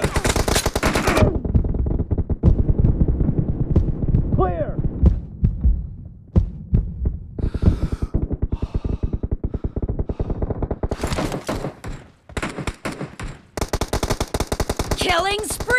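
Rapid machine gun fire in a team deathmatch shooter video game set in a warehouse, loud bursts and sustained rattling that pause briefly midway before resuming, with game voice and announcer speech mixed in.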